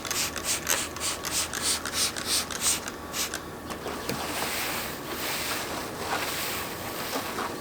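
A clay bar rubs across car paint at the edge of the hood in rhythmic back-and-forth squeaky strokes, about a dozen passes, then a steadier gritty rubbing texture continues close by.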